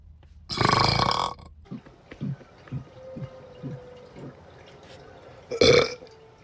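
Two loud, long, raspy burps, one near the start and another near the end, from someone drinking Powerade, with soft gulping or dripping liquid sounds in between.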